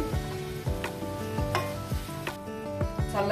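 Curry leaves hit a hot pan for a brinjal masala curry, bursting into sharp crackling sizzles mixed with repeated stirring scrapes against the metal, close and fairly loud with no talking.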